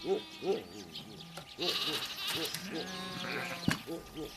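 A flock of sheep bleats repeatedly at a pastoral ranch, several wavering calls near and far overlapping, with a sharp knock near the end.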